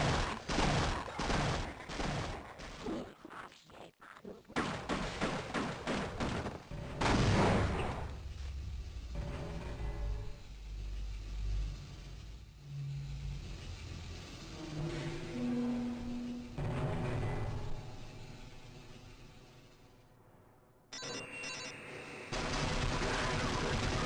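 Turrets in Half-Life 1 fire in long loud volleys of rapid gunfire, dense bursts with booming impacts that rise and fall over about twenty seconds, close and harsh.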